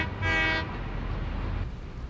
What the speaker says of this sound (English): All aboard the coal train